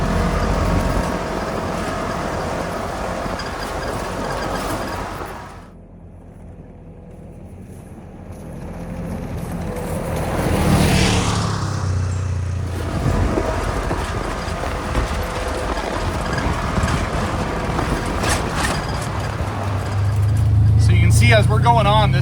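Off-road vehicle rolling along a faint desert trail on the Huntsman Trail, steady engine and tyre rumble with wind noise throughout, a brief quieter dip early on, and a voice talking over it.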